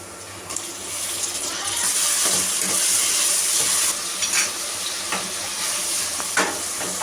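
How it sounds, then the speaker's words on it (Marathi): Chopped tomatoes hit sautéed onions in a pan while sambar is being made, giving a steady loud sizzle with brief stirring scrapes throughout and no voices. "तर कांदा परतले आपण टोमॅटो टाकून घेऊया।"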